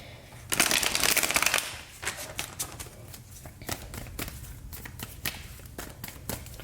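A deck of cards is riffled in a loud burst, followed by lighter snapping, tapping and shuffling of cards, close up with no talking.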